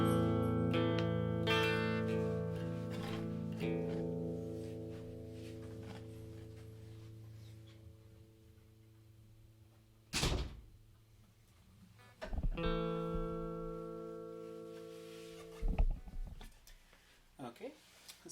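A Fender Jazzmaster electric guitar with wide-range humbucking pickups plays a clean tone through a pedal, with sustained chords ringing and decaying, then sharp strummed hits and short picked notes separated by pauses.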